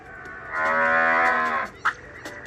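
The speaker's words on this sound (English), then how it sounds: "Cow." A single cow moos once, a long low call up close, followed by a brief clunk.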